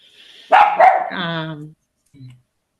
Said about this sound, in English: No, barking. The dog obviously is supporting you.